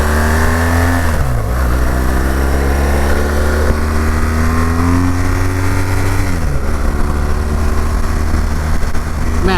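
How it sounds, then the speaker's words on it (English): BMW R 1200 GS Adventure motorcycle accelerating hard to 60 mph, engine note climbing steadily through gear changes with brief dips between shifts, loud and close with constant wind roar. "that was the easiest to 60 miles an hour I've ever felt on a bike"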